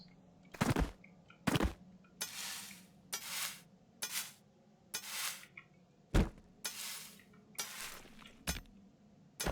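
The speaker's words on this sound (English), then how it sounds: "So I'm gonna mine some coal and then go and sell it." Coal being mined in the game Colony 37: a rhythmic series of about a dozen short, sharp metallic strikes and crunching bursts, evenly spaced over a low background hum.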